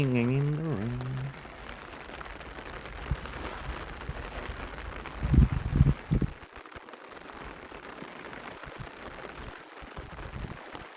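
Steady rain patters on a surface at a beach throughout, with a voice briefly singing at the start and a burst of louder noise midway.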